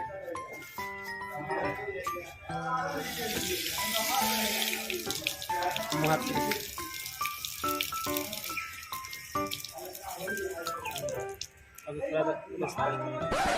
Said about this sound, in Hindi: वो रहा नल, पानी पी लेते हैं।